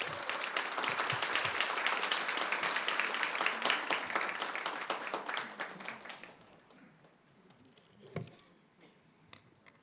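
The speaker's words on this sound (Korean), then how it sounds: "선교사님 나오실 때 뜨거운 박수로 맞아주시기 바랍니다" Church conference audience clapping warmly to welcome a speaker to the stage, brisk close applause that thins out and stops after about six seconds, followed by faint room noise and a single thump.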